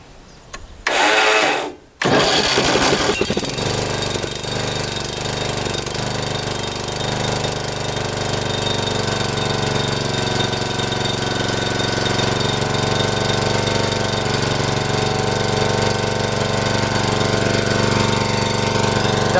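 An ATV engine cranks with a brief loud burst, then catches and settles into a steady, continuous low-RPM running drone that stays close and fairly loud throughout, with no talk over it.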